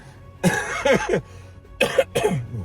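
A series of harsh coughs, close and loud, in two bursts separated by a short pause.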